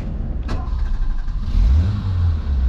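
A warm 1987 Peugeot 309 SR with a 1.6-litre 80 hp carburettor engine cranks and fires immediately, then settles into a loud, close rumbling idle that rises in revs, heard alone without talk.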